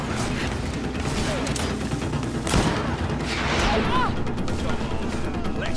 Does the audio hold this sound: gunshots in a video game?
yes